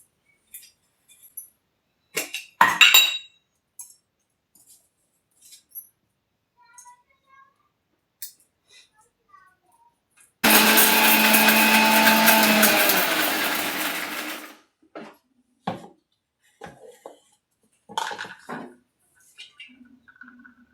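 A kitchen mixer grinder blitzes cardamom with five cashews and five almonds for homemade ice cream, one loud, steady whirring burst of about four seconds standing alone between faint clinks and quiet handling noises.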